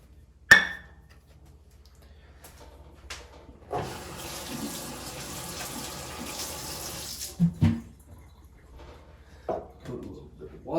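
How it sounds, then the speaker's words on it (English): Water pours into a bowl for a few seconds, a steady, moderately loud splashing stream, set between sharp clinks and knocks of kitchenware. "Put a little bit of water."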